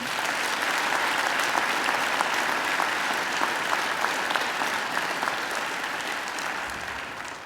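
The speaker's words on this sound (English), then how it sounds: "They deserve a great round of applause as well." A graduation ceremony audience claps steadily in a dense, even round of applause that fills the hall, with no voices standing out.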